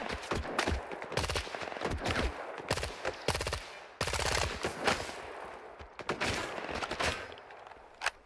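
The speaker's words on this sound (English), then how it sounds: "Who is shooting who?" Bursts of automatic gunfire and single shots crackle through a firefight in S.T.A.L.K.E.R. 2, coming in uneven volleys that sound fairly close, with no one talking.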